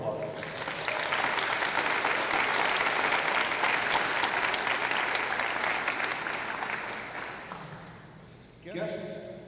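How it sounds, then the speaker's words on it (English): Sustained, loud applause from a large audience at a college spring convocation ceremony, steady clapping that gradually fades before a voice begins speaking at the end. "let's give them just one more round of applause"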